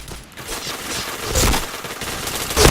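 Rapid bursts of automatic gunfire crackle through a PointBlank video game match, dense overlapping shots with a few louder cracks, with no talk over them.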